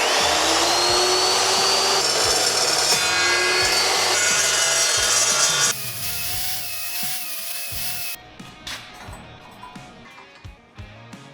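Steel tubing being cut into small gussets for a welding cart: loud, continuous grinding and rasping that drops off partway through, then gives way to a few quieter scrapes and knocks.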